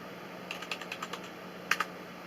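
Keys tap on a computer keyboard while a password is entered into a Python script, about eight light, separate clicks in an uneven rhythm followed by two sharper strikes, close and quiet over faint background hum.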